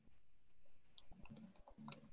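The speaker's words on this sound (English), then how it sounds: "And I'm typing" Quiet keyboard typing during an online coaching session: sparse, irregular clicks of a few keystrokes, faint and close, with no talking over them.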